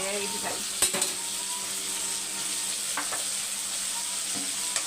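Tomatoes and curry leaves frying in a pan, a steady soft sizzle under a few sharp stirring clicks and scrapes spread across the stretch, close and fairly quiet, with no voices.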